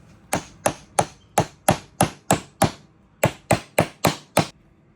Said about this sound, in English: I'm gonna take a hammer. I'm gonna hammer that down.